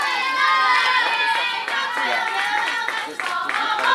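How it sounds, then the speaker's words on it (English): A softball team's bench cheers and shouts during a state championship game, with a steady, loud wash of crowd voices, clapping and excited calls running the whole time. "You can definitely hear the cheering from the Vikings bench"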